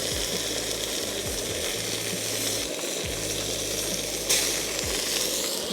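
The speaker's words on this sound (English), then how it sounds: "Just gonna throw it straight into the cast iron and get it searing" Ham sears in a cast iron pan at a camping cookout, giving a loud, steady sizzle and crackle with a low background hum, continuing unbroken with no talk.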